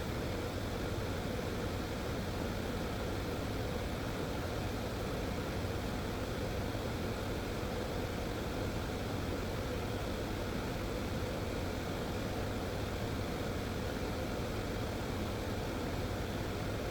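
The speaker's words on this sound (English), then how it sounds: "It's an 80-watt laser cutter cut through 6mm MDF." An 80-watt laser cutter slicing through 6mm MDF gives off a steady, even rush of air and fan noise that holds without a break for the whole stretch, with no voices.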